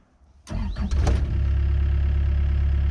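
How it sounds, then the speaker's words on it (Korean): A construction machine, an excavator or forklift fitted with a newly replaced engine, cranks briefly and catches, then settles into a loud, steady, close diesel idle with a low rhythmic throb. "시동 너무 잘 걸립니다"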